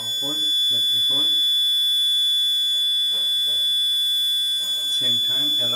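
A fire alarm panel sounds a steady high-pitched electronic alarm tone continuously, signalling a battery backup fault, while a person talks over it in short bursts.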